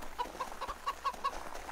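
A chicken-like creature in a video game clucks in a quick, even series of short, bright notes close by, with no talk over it.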